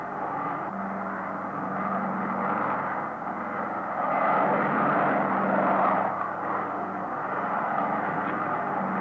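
A United DC-6 airliner flies an ILS landing approach, its piston engines giving a steady, droning roar with a low propeller hum that swells slightly midway, continuous and fairly close throughout.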